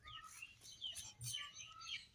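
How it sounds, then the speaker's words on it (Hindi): A myna bird in a village after rain gives faint, scattered chirps and squeaky calls in a quiet outdoor setting. "हाँ दिव्यांश तो मेरा दोस्त मैना है ये"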